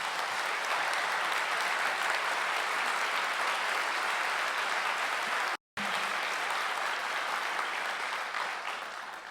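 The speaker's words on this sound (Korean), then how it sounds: "다시 한번 박수 드리겠습니다" An audience at a university president's inauguration ceremony claps in sustained, even applause, with a brief cut of silence partway through before the clapping continues.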